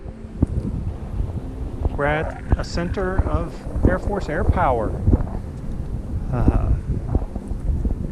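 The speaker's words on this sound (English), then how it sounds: "I will say it is windy" Gusty wind buffets the microphone in a steady low rumble while someone talks over it outdoors at an Air Force aviation event.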